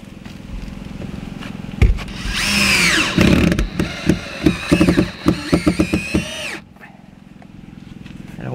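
Power drill driving long screws through wood for a camping rig build in a Chevy Trailblazer: a motor whine rising and falling, then a rapid series of loud bursts as the screw bites, ending abruptly with quiet afterward.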